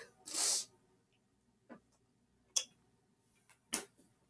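A single short, hissy sneeze bursts out near the start, followed by a few quiet, sharp clicks in an otherwise quiet room.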